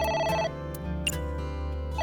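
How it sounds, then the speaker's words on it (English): A telephone rings in the video game AI: The Somnium Files, a steady electronic ringing tone that repeats in short trilling bursts over a soft background of game music, with no voices. "The phone is ringing."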